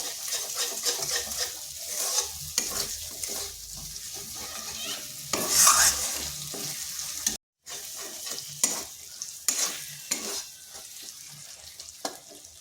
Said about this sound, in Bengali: মশলাটা ভালোভাবে কষে নিতে হবে।